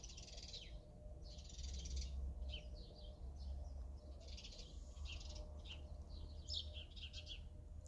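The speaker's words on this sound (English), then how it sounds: "Just birds on birds on birds." Several birds chirp and call outdoors in quick overlapping bursts, fairly faint over a low steady background hum.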